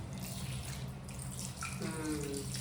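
Water splashing and running during a bath for Mango the cat, a steady wash of splashing close by with a few brighter drips, and a voice murmuring softly underneath.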